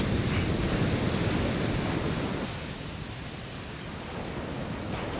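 Ocean surf rushes in a loud, broad roar of breaking waves, easing slightly as the wash recedes, with wind blowing across the microphone on a beach.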